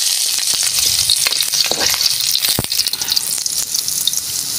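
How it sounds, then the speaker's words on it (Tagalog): Chopped onion and bagoong alamang sizzle and fry loudly in a hot pan, with intermittent stirring scrapes, close and continuous with no talking. "Tapos natin palambutin at napadurog yung ating munggo, magigisa na tayo."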